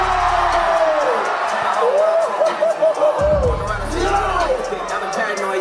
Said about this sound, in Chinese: 为他欢呼，为他喝彩。